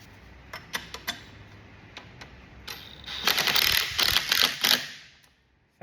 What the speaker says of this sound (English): Then we start to work the top bolt in. Get that nice and tight.